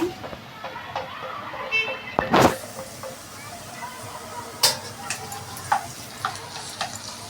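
Tomatoes fry in a pan for a fresh cashew curry, giving a soft, steady sizzle with occasional stirring scrapes and a sharper clatter near the middle.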